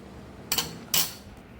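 A soft, syrup-soaked biulir dal bora is cut with cutlery, giving two brief, close, moderately loud clinks against a dish in a quiet kitchen.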